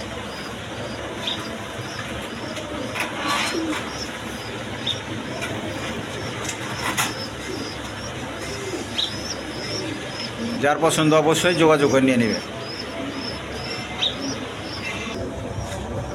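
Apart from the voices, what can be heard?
racer pigeons cooing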